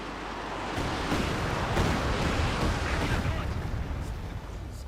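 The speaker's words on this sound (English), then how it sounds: "Another Panzerwerfer barrage around, I think, the howitzer here." A Panzerwerfer rocket barrage in Company of Heroes 2 rumbles as a dense, continuous wash of distant explosions and booms, with a voice speaking over the barrage throughout.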